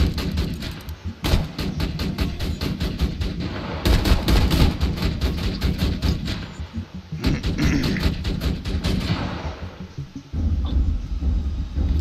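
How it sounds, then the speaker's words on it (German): Rapid bursts of gunfire in Borderlands 2, loud and close, come as dense volleys with short pauses and occasional heavy thumping blasts. "Wir verballern hier unsere Munition."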